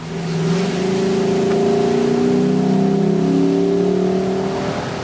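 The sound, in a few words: Lexus LC 500 naturally aspirated V8 car driving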